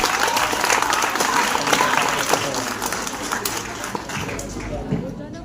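Dense, lively applause from students at a school farewell party, continuous clapping with crowd noise mixed in, holding steady for several seconds and easing slightly at the end.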